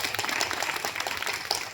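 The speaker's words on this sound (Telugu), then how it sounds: "మా విద్యార్థులకు కూడా ప్రత్యేకంగా వాళ్ళకు కూడా క్లాప్స్ కొట్టండి" Fairly faint, steady applause from an audience at a program, clapping for the students, with a busy patter of many hands and no clear voice above it.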